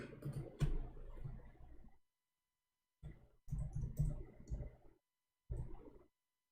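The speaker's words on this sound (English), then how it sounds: "we search for the word Muhammad, I will type it in front of you." Keystrokes on a computer keyboard typing a search word, in several short bursts of rapid clicking separated by silent pauses, close and fairly quiet.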